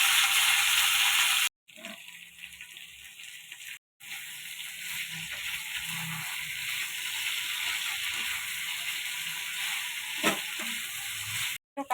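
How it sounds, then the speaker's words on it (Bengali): Frying in a pan for drumstick (sajne data) curry with nigella seed tempering, a steady moderate sizzle broken by brief silent gaps, with occasional soft stirring scrapes. "ভেজে নিব।"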